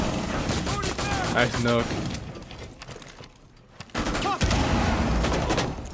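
Gunfire in the video game Rainbow Six Siege, rapid bursts of shots cracking under excited player voices, dropping to a brief lull before the firing and chatter resume loudly.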